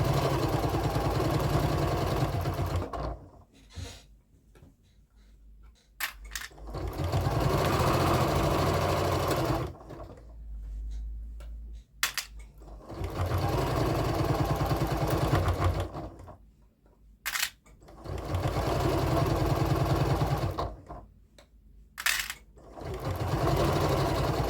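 A domestic sewing machine stitches a quilt block in bursts of steady whirring, several seconds each, separated by short pauses and a few brief clicks; close and fairly loud, with no talking.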